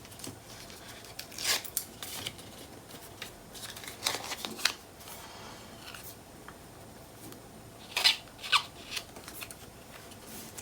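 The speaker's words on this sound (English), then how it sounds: "let's get our tape off" Tape peeled off paper while making a scrapbook mini album, heard up close as soft, scattered scratchy rips and rustles, with a brighter cluster of tearing sounds near the end.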